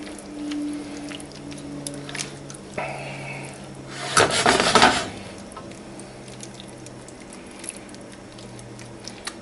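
A utensil scrapes and stirs stuck bits from the bottom and sides of a pot of chana masala with chickpeas and spices, soft rubbing pats with one louder, brief scraping burst in the middle.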